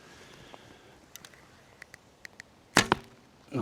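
A double limb locust crab bow from Grozer Archery shoots arrows, giving a few sharp light taps and then a louder snapping release near the end, over quiet background.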